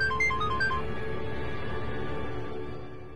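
A phone rings with a short electronic melody of repeated beeps at the start, then fades under a low background hum in a Hindi TV drama scene.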